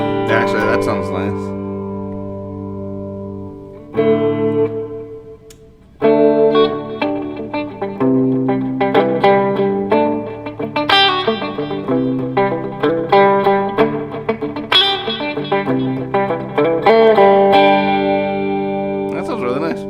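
An electric guitar played through a REVV D25 amp with reverb at maximum, heavy and washy, notes ringing out and blending together after a short pause near the start.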